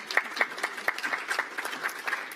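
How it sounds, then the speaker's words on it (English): Audience at a political party summer meeting gives a short burst of scattered, moderately close clapping that thins out quickly, with no talk over it. "Yes, she deserves some applause."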